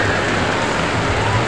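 Heavy tropical rain pours down steadily during a storm on Samal Island, a dense, loud, continuous hiss of downpour with no voices.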